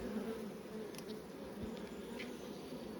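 Honeybees from a recently artificially swarmed colony buzz steadily around their hive, a continuous close hum with a few individual bees flying past, no talk.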